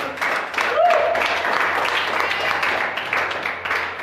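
Church congregation applauding together during a service, a dense steady wash of clapping that fills the whole clip with a faint low hum underneath.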